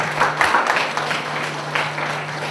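Audience applause for a mayor at the opening press conference of the BABEL FAST 2014 festival in Târgoviște, a steady indoor clapping wash lasting a couple of seconds over a low constant hum.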